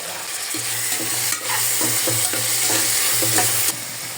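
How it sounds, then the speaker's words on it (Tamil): Onions and tomatoes sauté in a pan for chicken biryani, giving a steady close sizzle broken by repeated rhythmic stirring strokes, with no talking. "வெங்காயம் நல்லா வதங்கினதும் இதில் கட் பண்ணி வச்சுருக்க தக்காளியை சேர்த்து வதக்கிக்கலாம்."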